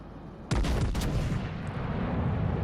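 A battleship's main guns fire in the naval video game World of Warships Legends: a loud, sudden booming salvo with a second blast right after, then a long rumbling roar over continuous engine and sea noise.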